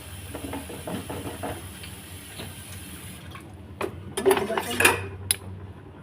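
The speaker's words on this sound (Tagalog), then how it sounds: "maghugas tayo ng plato" Plates and cutlery clatter in a sink during dishwashing, with running water underneath. Scattered clinks give way to a louder flurry of knocking and scraping near the end, close by and with no talk.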